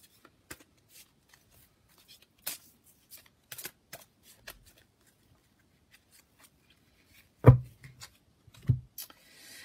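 Tarot cards being shuffled and cut, soft papery riffles and taps scattered through near silence, with a louder thicker flurry of card handling near the end.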